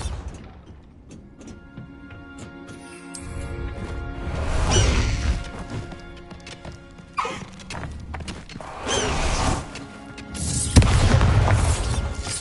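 Bombarda spell explosions in Hogwarts Legacy, several heavy booming blasts with crashing debris spaced across the stretch, loud and close over a busy game soundscape of whooshes and thuds.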